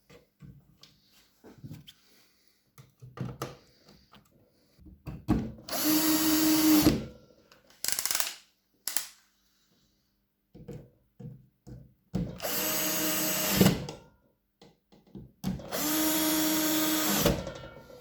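Power drill whirring in three long bursts as screws are driven back into a cabinet, separated by pauses filled with small clicks and handling knocks; the drill is close and loud.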